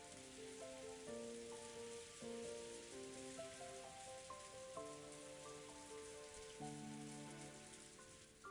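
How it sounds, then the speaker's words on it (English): Soft, steady rain from the Umineko When They Cry video game patters continuously beneath a gentle melodic piano-like tune, with no voices present. "she was wrapped up in the soft sound of the rain"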